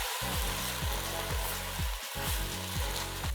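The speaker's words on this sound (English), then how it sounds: "we're going to add our white wine. Just put it directly into the dish and keep stirring until that completely evaporates" White wine sizzles as it is stirred into a risotto alla Milanese in the pan, a short, close, steady fizzing hiss with soft scraping strokes.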